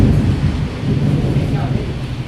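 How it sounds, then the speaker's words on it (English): Rain falls in a dense, even wash beneath the cover of a garage on a new house build, a brief and fairly loud burst with no pauses. "It's raining again"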